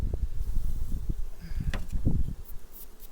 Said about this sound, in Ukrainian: Бачите, бджола F1, бджола спокійна.